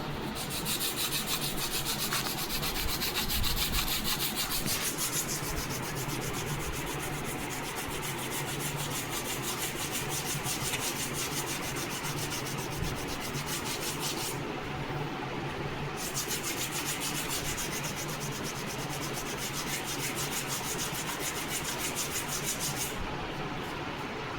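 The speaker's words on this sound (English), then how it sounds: "Once tapering is done, start sanding the leading edge." Steady, continuous sanding on the leading edge of a balsa wood model wing, a soft rhythmic rasping scrape that goes on without pause, close and moderately quiet.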